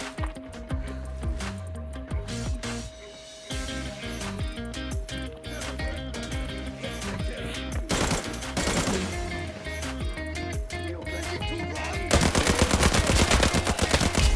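Dense gunfire from the video game Arena Breakout, rapid automatic bursts loud and close, with a steady tone and game sounds under them and heavier sustained firing at the end.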